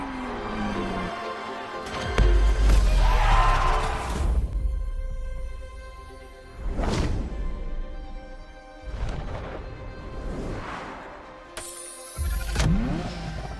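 A Ferrari F50 sports car in The Crew Motorfest revs hard several times, each sharp rising engine wail followed by gear shifts and drops, close and loud with short pauses between bursts.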